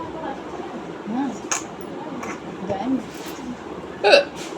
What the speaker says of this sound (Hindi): अरे यार हिचकी बंद हो जा रहे हैं।